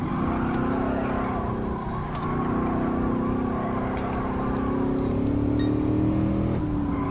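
A Chevrolet Camaro SS on a lap, its engine droning steadily close by at a strong, even level, the pitch slowly rising and falling with throttle and shifts, with no voices over it.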